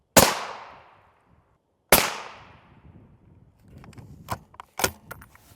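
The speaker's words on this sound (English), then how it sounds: "We'll finish this plate off with 2 rounds of standard M80 ball" Two sharp, loud rifle reports from standard M80 ball rounds striking an NIJ Level IV body armor plate, each cracking suddenly and ringing out into a fading tail, followed by softer clinks and rustling.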